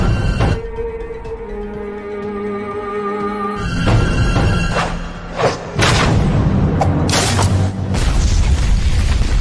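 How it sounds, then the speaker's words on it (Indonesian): Explosions blow apart both cliff walls in a dramatic story effect, a series of loud booms and crashing thuds building from a low rumble into heavy, continuous blasts and falling debris. "mereka melompat lalu meledakkan kedua sisi dinding tebing"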